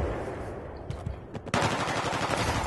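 Rapid automatic gunfire in Battlefield 3 on the Seine Crossing map rattles continuously, dipping briefly in the middle before a louder, denser burst of shots resumes close by.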